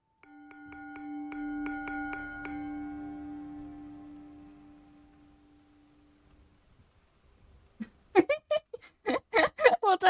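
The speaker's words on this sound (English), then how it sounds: "9 bells." A bell strikes about nine times in quick, even succession, each ring overlapping into a sustained, fading tone; after a pause, people begin talking close by.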